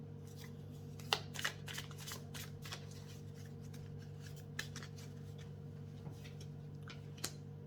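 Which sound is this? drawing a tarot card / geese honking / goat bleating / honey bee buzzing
drawing a tarot card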